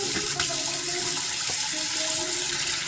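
Water runs steadily from a tap into a sink at medium temperature for washing a wig, a constant loud hiss and splash close by with no talking.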